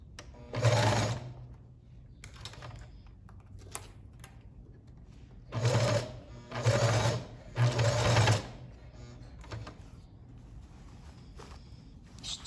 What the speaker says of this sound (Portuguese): E devagarinho eu vou arrumando o tecido e vou fazendo a costura